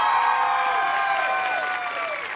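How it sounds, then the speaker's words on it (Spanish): Studio audience applauding for Kelen Coleman on a Spanish-language television show, a steady wash of close, loud clapping with a few cheers mixed in. "El aplauso para Kele."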